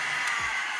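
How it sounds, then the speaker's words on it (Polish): A heat gun blows hot air onto an old motorcycle tank pad on a Suzuki GSX-R K7, a short, steady, close whirring hiss. "My rozgrzejemy go opalarką."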